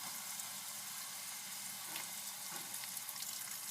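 Onions frying in a pot for Trini-style khichdi with split peas, a steady, dense sizzle that holds close and even for the whole stretch, with no talking.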